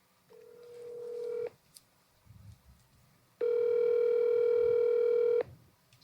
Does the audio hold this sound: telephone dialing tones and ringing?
yes